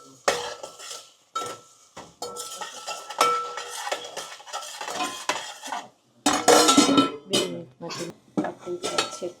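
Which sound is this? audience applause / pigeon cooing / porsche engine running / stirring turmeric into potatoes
stirring turmeric into potatoes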